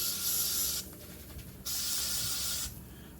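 A fogger sprays insecticide onto front-yard bushes for mosquito control: two bursts of loud, broad hissing, each about a second long, split by a short pause, then a quiet tail.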